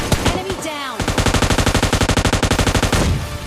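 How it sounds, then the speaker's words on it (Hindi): Rapid automatic M4 rifle fire in the PUBG Lite video game, a rhythmic burst of about twenty closely spaced shots lasting two seconds, preceded by a voice. "अब मैं जैसे इन पे फायर करता हूँ तो भाई गन सिंगल टैप पे होती है"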